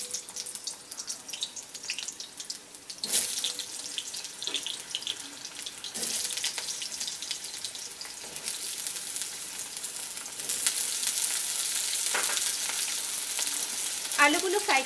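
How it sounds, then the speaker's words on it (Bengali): Potatoes fry in three tablespoons of mustard oil in a wok, a bright hiss that swells louder in bursts, with occasional stirring knocks and scrapes. "প্রথমে আমি আলুগুলোকে ভেজে নেব।"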